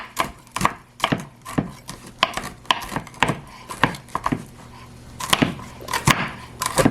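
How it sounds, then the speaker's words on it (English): Knife chopping crisp-fried bacon pieces on a board, a quick irregular run of sharp thuds and taps, close and clear, with no talking over it. "We'll just take those bacon pieces and just kind of chop them up a little bit"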